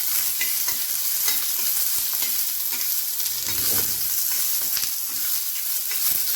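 Onion roasting in a pan for misal masala, a loud, continuous close sizzle and crackle, with soft stirring scrapes running underneath and no voices.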